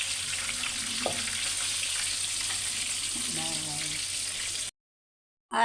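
Mutton leg pieces fry in a pan with a steady, hissing sizzle, a voice speaking briefly over it before the sound cuts out.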